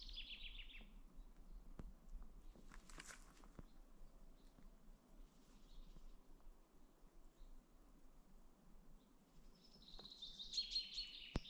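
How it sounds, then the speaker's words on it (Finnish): Faint birdsong drifts in from a distance at an outdoor recreation area in Vaakkoi, a few high chirping phrases at the start and a clearer trill near the end over a low background rumble. "Lintujen laulu."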